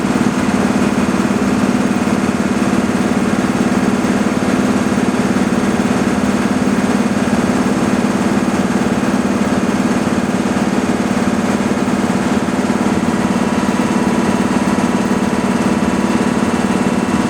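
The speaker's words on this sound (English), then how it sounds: "it's going to switch over and fill pretty quickly here" An air compressor runs continuously while filling SCBA storage cylinders, a loud, steady mechanical hum and drone with no change in pitch or rhythm and no voices.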